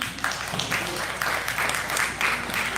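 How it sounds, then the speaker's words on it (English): Audience applause at the Manila Film Festival event, steady dense clapping from a crowd filling the space, loud and continuous throughout. "Round of applause, please."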